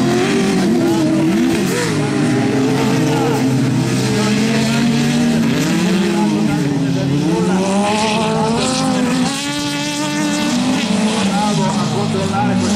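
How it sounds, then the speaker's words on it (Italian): Superbuggy race car engines accelerating hard down the straight during a final at the Vighizzolo d'Este track, a loud continuous roar with rising and falling revs, overlaid by a commentator speaking throughout. "tira fuori tutto quello che ha il suo motore nel rettilineo"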